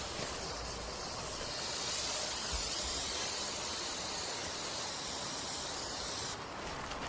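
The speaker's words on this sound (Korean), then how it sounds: "보조자는 땅속에 벌 제거용 스프레이를 충분히 분사해 남아있는 벌을 제거하며" A can of bee removal spray hisses in one continuous, steady blast for several seconds during ground-nest wasp or bee removal, loud and close, then cuts off near the end.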